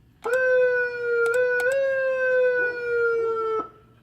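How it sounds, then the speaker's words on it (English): A siren tone from a Hornblaster PA amplifier, a loud, steady wailing electronic tone lasting a few seconds, with brief clicks as it starts and stops, heard alone. "But all of these are a different siren tone."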